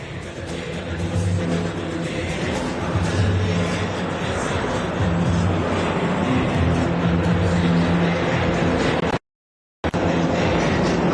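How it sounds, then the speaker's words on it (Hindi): Hawk Mk 132 jet aircraft fly overhead during a Rashtriya Ekta Diwas display, producing a loud, continuous broadband jet roar with a brief dropout near the end. "जिन विमानों को आप आसमान में उड़ान भरता देख रहे हैं वे हैं हॉक मार्क 132"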